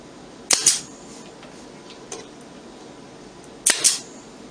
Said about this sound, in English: Clamps are used to temporarily hold it in place while it is attached with 5/8 inch brad nails and a nail gun.